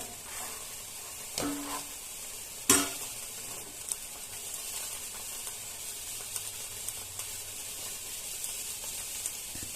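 Mughlai paratha shallow-frying in oil in a pan, a steady soft sizzle running throughout, with a sharp utensil clack near the start and faint scraping touches.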